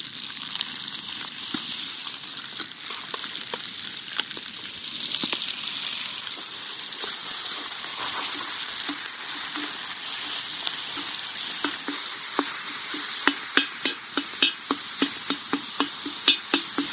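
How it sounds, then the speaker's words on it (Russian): Minced meat sizzling in hot oil in a pan for a Crimean Tatar dish, a loud, dense, continuous frying hiss with crackling spatter and occasional stirring scrapes, close and steady throughout. "Отправляем сразу туда фарш. Будем его обжаривать."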